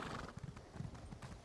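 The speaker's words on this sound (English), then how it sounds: "Go for a horse ride." Horse hooves clip-clopping in a steady trotting rhythm while riding in Elder Scrolls Online, with a whinny mixed in, quick and fairly quiet, with no talking over it.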